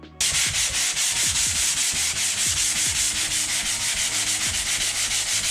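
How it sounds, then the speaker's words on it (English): Hand sanding smooths a drywall patch of joint compound, a loud close rhythmic scrubbing with quick regular back-and-forth strokes, continuous and without talk. "just make sure those are sanded just as smooth as the"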